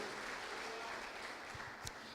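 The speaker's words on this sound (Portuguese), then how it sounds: "Então você pode dar um forte aplauso a Jesus Cristo, o nosso Deus" A church congregation gives a round of applause, a faint, distant patter of clapping under the room's hum, with a few sharper claps near the end.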